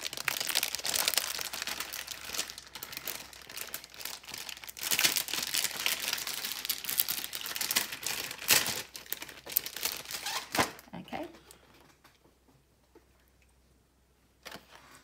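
Foil card stock being handled for gift-tag crafting, giving dense, continuous crinkling and rustling up close that fades to near silence near the end, with one last brief crackle.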